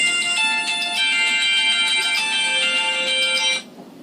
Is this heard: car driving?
no